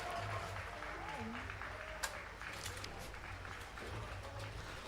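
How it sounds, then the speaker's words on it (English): Distant applause and cheering from a golf tournament gallery, faint and steady under a quiet broadcast background, with a brief sharper accent midway. "Oh, that was cheering."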